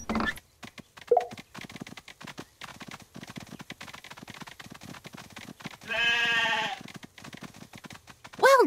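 A sheep in the Paw Patrol Academy kids' game gives a clear, loud bleat near the end, and another short bleat follows after a run of light tapping steps and a quieter cry.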